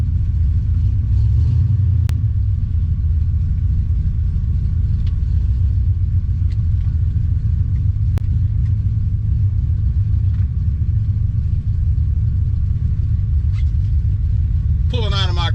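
A C3 Corvette with glass pack side pipes idles while stationary, a deep steady rumble throughout with no one speaking and a brief higher sweep at the very end.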